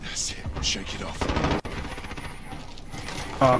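Rapid gunfire bursts and explosions from a team deathmatch video game match, dense and busy throughout with sharp cracks and a louder burst near the end.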